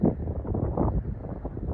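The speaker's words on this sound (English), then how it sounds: "Still windy." Steady gusting wind buffets the microphone outdoors under a cloudy October sky, a dense low roar with no breaks.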